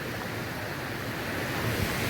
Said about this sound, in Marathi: इकडून पाणी वाहत चालला